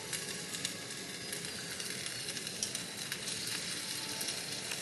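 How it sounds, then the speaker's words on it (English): Corn sizzles in hot oil in a pot: a steady, fairly faint crackling hiss with small pops, continuous and close, with no voices. "I'm gonna add the corn to the oil."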